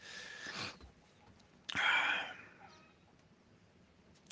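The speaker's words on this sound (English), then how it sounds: "I got the rooster in the house and all this stuff" A rooster indoors gives a short, rough, squawking call and then a brief cluck in a quiet room, heard close and fairly faint.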